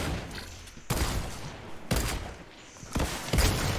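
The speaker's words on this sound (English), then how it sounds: "I guess it's a sniper versus shotgun now." Sniper and shotgun fire in Fortnite: a few sharp, loud gunshots spaced about a second apart, with a dull thumping background between blasts.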